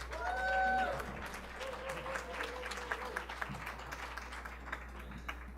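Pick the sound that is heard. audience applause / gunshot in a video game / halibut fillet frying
audience applause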